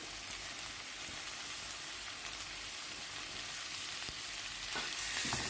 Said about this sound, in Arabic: هنزل بقى بفراخ مقطعة مكعبات صغيرة جدا